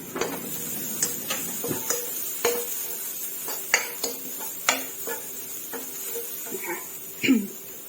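Chili is stir-fried in a pan for a Thai spicy bean dish, with a utensil scraping and knocking against the metal in irregular clicks and taps over a soft sizzle, while someone talks.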